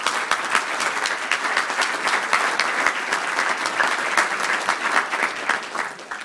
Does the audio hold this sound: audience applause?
yes